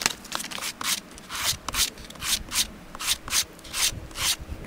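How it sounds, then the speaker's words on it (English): A scrap piece of wood is rubbed back and forth across sandpaper in a rhythmic series of close, scratchy rasping strokes, about two per second, with short pauses between them. "running it across the sandpaper"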